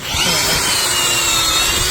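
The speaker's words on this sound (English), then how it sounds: "Okay, hold on to the drill. Okay, pull on the trigger." A power drill bores a hole on a family farm, a loud, steady grinding whir held close up for the full length without any talking.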